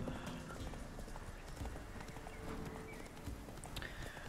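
Roach, Geralt's horse in The Witcher 3, trots steadily with a continuous clip-clop of hooves close by and no talk over it.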